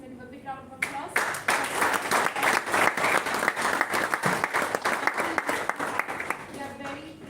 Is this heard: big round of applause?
yes